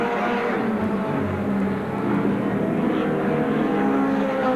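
Race cars roar around the oval at Seekonk Speedway during the 1993 DAV Memorial, a dense, continuous engine drone that stays loud and steady throughout with no clear breaks.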